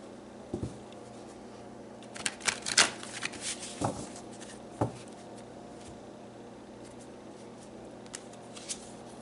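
A deck of tarot cards is shuffled close by, a few soft riffling and slapping bursts in quiet room tone, no talk.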